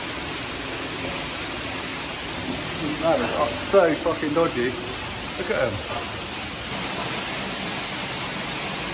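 Water pours steadily as a constant broadband rush down a ladder shaft beneath a barn, with someone speaking over it midway.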